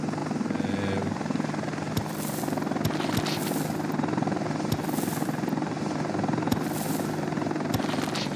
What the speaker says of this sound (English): Let's get the helicopters assigned to these as well.